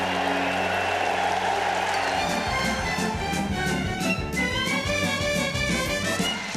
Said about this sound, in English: The crowd on their feet, stamping and cheering, and no surprise